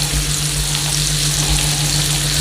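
Pork sizzles steadily on a hot electric grill pan for Thai moo kratha, a continuous crackling hiss with a low electrical hum underneath and no talking.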